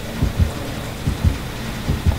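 Loud, heavy heartbeat in the horror video game Dead by Daylight thumps in paired lub-dub pulses, three doubles evenly spaced over a low ambient rumble, with no speech.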